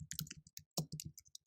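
Someone types a search into a web browser on a computer keyboard: a quick, uneven run of close, crisp key clicks with short pauses between bursts, and no other sound.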